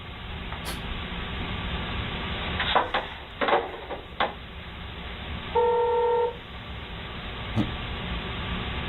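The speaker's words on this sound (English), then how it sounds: "Flip phone." A flip phone's keypad gives one clear dialing tone lasting under a second, preceded by a few sharp clicks over a steady hiss of background noise.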